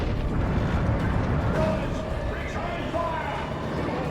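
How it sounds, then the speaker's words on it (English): Long-range D-cannon artillery fire in a Dawn of War 2 battle: a dense, sustained wall of booming blasts rumbling continuously throughout, loud and close, with distant voices faintly underneath. "We have a D-cannon from Brawler. Very long range artillery piece."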